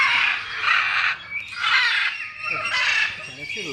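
Large macaws at Alipore Zoo in Kolkata let out loud, harsh squawks in three long overlapping bursts, close and raucous, filling the whole stretch.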